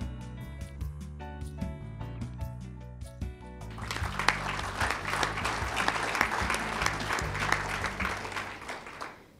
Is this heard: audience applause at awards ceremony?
yes